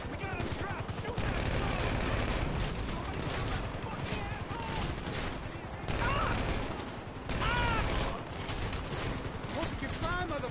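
Continuous gunfire and bursts of shots in Grand Theft Auto V fill the scene, loud and dense throughout with short lulls, while excited voices shout over it.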